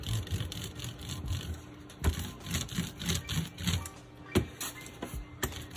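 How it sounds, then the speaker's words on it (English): An ink roller rolls across a printmaking board with soft rhythmic rumbling passes, each stroke swelling and fading in a steady back-and-forth pattern, close and fairly quiet. "And now, using the roller, I will roll the ink on the top"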